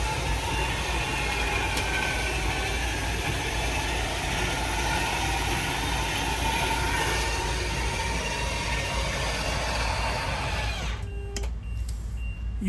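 A 2017 Aspect RV motorhome engine idles with a steady, loud low rumble and broadband noise for most of the stretch, then cuts off abruptly near the end, leaving near silence.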